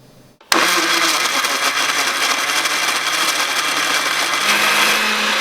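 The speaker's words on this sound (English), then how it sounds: "You're gonna blend for about half a minute or until smooth." A kitchen blender starts abruptly and runs loud and steady for several seconds, whirring through sliced peach, diced mango, orange juice and milk for a smoothie, with no voices over it.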